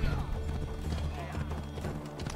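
Horse hooves clip-clop steadily in Assassin's Creed Odyssey, set in Archaia, amid busy game sound with a brief whinny, loud and continuous throughout.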